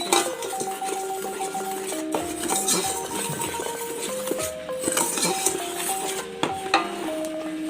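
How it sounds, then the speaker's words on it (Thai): A utensil stirs three kinds of flour, including tapioca starch, together in a bowl, making repeated scraping and clinking strokes against the bowl with bright metallic ringing tones, close and steady for several seconds. "คนให้แป้งทั้ง 3 ชนิดเข้ากันค่ะ"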